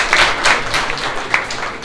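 Applause from a crowd at a ceremony honoring government school students, clapping for teachers, steady and moderately loud throughout, with bursts of clapping rising and falling over a couple of seconds.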